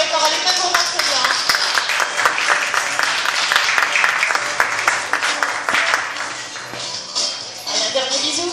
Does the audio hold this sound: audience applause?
yes